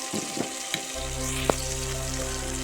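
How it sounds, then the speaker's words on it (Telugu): Coriander and mint frying in hot oil in a pan for egg biryani: a steady, loud sizzle that swells after the first second, with a few soft clicks of stirring on top. "కొంచెం కొత్తిమీర వేసుకొని కొంచెం ఫ్రై చేసుకోవాలి"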